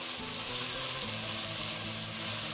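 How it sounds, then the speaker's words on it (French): Onions cook in a pan for a Réunion pork curry, giving a steady dense sizzle and hiss that holds evenly throughout, close and fairly loud. "Et on rajoute les oignons. On laisse cuire 5 à 7 minutes, le temps que les oignons fondent."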